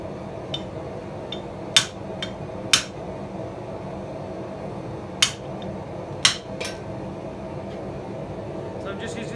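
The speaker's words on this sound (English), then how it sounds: "So I'm just using the soft-faced hammer by Anson Ivy." A soft-faced hammer strikes steel being hand forged into a candy cane, with several sharp, scattered blows over a steady hum of shop fans or blowers and faint clinks between hits.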